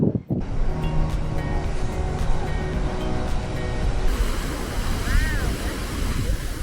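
Ocean surf and gusting wind at Spouting Horn on Kauai's rocky coast, a continuous loud roar of waves with heavy wind buffeting the microphone and a brief voice faintly underneath.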